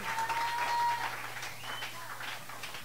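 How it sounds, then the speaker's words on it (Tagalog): A church congregation applauding during a worship service, moderately loud clapping spread across the room with a faint tone and a voice rising above it. "Palakpakan nating malakas ang Panginoon."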